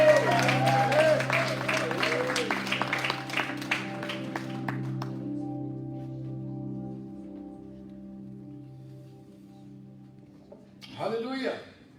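A church congregation applauding, a sustained patter of clapping over held organ or keyboard tones that fades out, followed by a brief spoken voice near the end.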